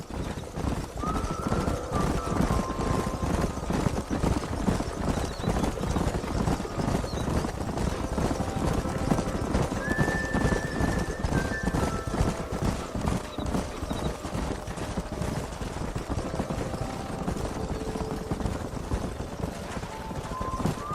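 In the Red Dead Redemption game, wild horses are driven up a narrowing canyon: continuous rapid hoofbeats of a galloping herd, with several whinnies and neighs rising above the clatter, loud and close throughout.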